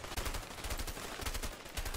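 Rapid, dense shotgun fire in the video game A Way Out: loud blasts following closely on one another for two seconds, filling the mix with no voices over them.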